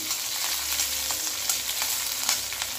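Red and green chillies fry in hot oil with a steady, crackly sizzle, with small pops and faint stirring clinks scattered through it, close and even, and no voices.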